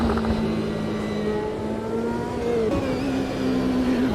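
A Toyota Varia race car in the Automobilista 2 racing game holds a steady droning engine note at close range, with one short crackle partway through.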